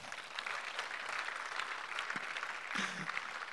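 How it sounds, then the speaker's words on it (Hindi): Audience clapping at a Nutricharge new product launch event, a steady wash of applause that goes on through the whole moment at moderate distance, with no one talking over it. "मेरी आखिरी स्लाइड थी, तो आप ताली बजा सकते हैं।"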